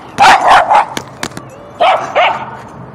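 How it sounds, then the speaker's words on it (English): A dog barks nearby with a loud burst of rough barks, goes briefly quiet apart from a few faint clicks, then gives two more barks. "That was a dog"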